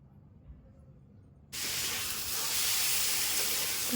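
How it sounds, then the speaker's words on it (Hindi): Food is being fried in a kadhai pan for kadhai paneer, with tomatoes in the cooking. After a quiet moment a loud, steady sizzling hiss suddenly starts and then continues without a break. "ତାକୁ ଭଲସେ ଭାଜି ନେବା।"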